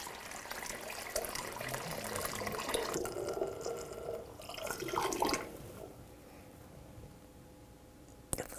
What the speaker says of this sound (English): I'm going to give this a nice pour